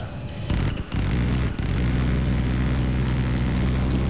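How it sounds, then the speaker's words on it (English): A jet aircraft, the F-35 in the Battlefield 3 video game, roars with a steady, loud engine drone and a low rumble that holds constant after a brief opening dropout, with no talking. "Time for the jet. Damn, F-35."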